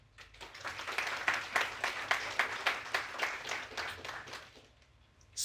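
Audience applause at a panel discussion event welcoming a Viennese member of parliament, a moderate burst of clapping that swells, holds with distinct claps, then fades out near the end.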